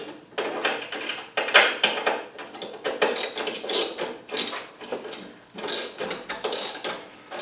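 Ratchet wrench snugging bolts on a Barricade classic rear bumper being installed on a Jeep TJ, rapid clicking strokes in uneven bursts, close and fairly quiet, with no talk.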